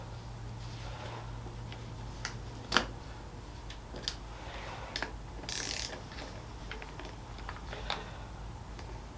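Bolts on Oberon levers of a Lowrider ST motorcycle are loosened with a ratchet, giving quiet scattered clicks and a few sharper metallic ticks over a low steady hum, close but faint.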